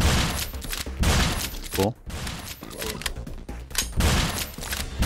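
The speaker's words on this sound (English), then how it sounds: "The pumping between two shots is slow, and then the reload is okay, I guess." Shotgun fire in Crimsonland Bloodworks, an open-source top-down shooter: loud close blasts in quick bursts, each followed by the clack of the pump, with a short pause and a speaking voice briefly over the shots.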